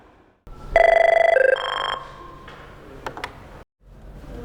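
An office telephone rings with a rapid trilling bell burst, close and loud, followed by clicks as the handset is picked up.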